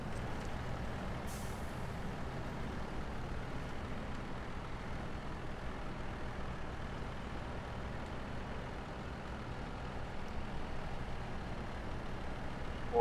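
Heavy truck engine rumbling steadily in SnowRunner, a low continuous drone with air-brake hiss texture throughout, loud and close with no talk.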